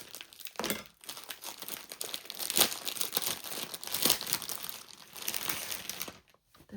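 Vintage fabric is handled and cut close by, giving a busy stretch of crinkling, rustling and snipping sounds with a few sharper crisp bursts, ending in near silence.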